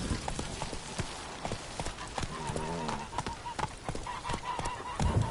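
Horse hooves clip-clop at a steady trot in the video game The Witcher 3, a rhythmic stream of hoof beats over ambient game sound, with a brief honking animal call and some speech mixed in.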